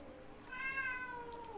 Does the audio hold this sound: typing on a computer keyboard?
no